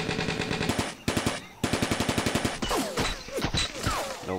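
Rapid automatic gunfire from units in a Vietnam War mod of a strategy video game, heard as two dense, loud bursts of rattling shots, followed by other clattering battle effects.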